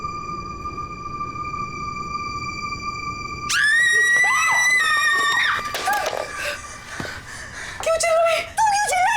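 A woman's loud, high piercing scream erupts suddenly in a Hindi thriller film scene, sustained and wavering, then breaking into shorter cries, preceded by a steady high electronic tone.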